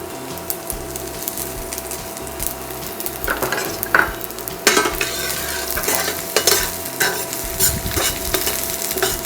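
Dry red chillies, chopped garlic and ginger fry in hot oil for a dal tadka tempering, giving a steady close sizzle with scattered sharp crackles and a few stirring scrapes, no talking.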